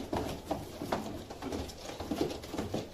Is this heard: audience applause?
no